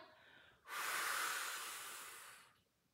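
A long, strong exhale during a Pilates reformer leg-circle exercise, a breathy rush of air that swells suddenly, holds for about two seconds and fades, preceded by a softer inhale, close and without speech.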